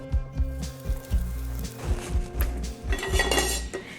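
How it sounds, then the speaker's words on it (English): A spoon clatters and scrapes against a saucepan while green chili and ginger are stirred in warm olive oil, giving a rhythmic series of close, loud metallic knocks with a faint sizzle underneath. "Give it a quick stir."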